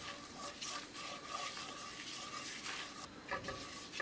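Spatula stirring a small quantity of chicken cooking in a pan over moderate gas, a soft steady scraping and faint sizzle, quiet and continuous with no talk.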